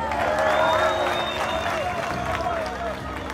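A crowd of students at a school visit by the Rayon Sports football club applauds and cheers for the assistant coach, a loud, steady mass of clapping and excited voices that eases slightly toward the end.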